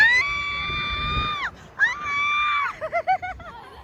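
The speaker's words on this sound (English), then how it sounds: "She's screaming already." A rider on a scary amusement ride lets out long, sustained high screams, then a rapid series of short shrieking yelps, loud and close, with some voices and crowd noise underneath.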